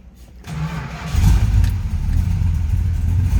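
A 1967 Plymouth GTX's V8 cranks briefly, then catches and fires into a loud, rumbling idle that stays close and steady, with no voices.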